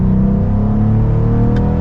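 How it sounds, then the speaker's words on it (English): A 2022 Cadillac CT4-V Blackwing in V mode, its exhaust roaring steadily and loud up close while accelerating, with a deep, dense rumble and a rising engine tone and no talk over it. "There's thunder behind with that exhaust. It sounds really good."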